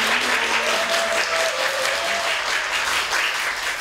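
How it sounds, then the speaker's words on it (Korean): Warm, sustained applause from a studio audience at a KBS broadcast, dense and steady throughout, with faint voices and tonal background sound underneath. "뜨거운 박수로 보내드립니다."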